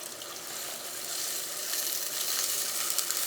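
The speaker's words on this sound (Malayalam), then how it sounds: "ഇതിലേക്ക് നമുക്ക് ആവശ്യത്തിന് വെള്ളം ഒഴിക്കാം." Water poured into spices frying in coconut oil for Kerala fish curry, a close, rising hiss and sizzle that grows louder and stays steady, no voices.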